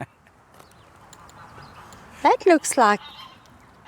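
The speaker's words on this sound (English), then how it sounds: "Look at all the ducks and the geese." Ducks and geese by a dam break into a short burst of loud honks and quacks, four or five calls close together, after quiet outdoor ambience; a person speaks briefly.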